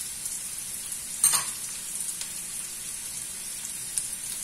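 Chicken egg fried rice being stirred in a pan gives a steady hissing sizzle with a few scraping strokes. The frying stays fairly quiet and even, with one brief louder scrape near the start and no voices.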